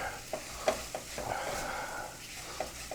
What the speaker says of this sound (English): We stir the Oritas just a little bit.